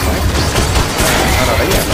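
Steady, dense gunfire blasting aliens in the video game Men In Black Galaxy Defenders, a continuous loud barrage with booming low thuds mixed throughout.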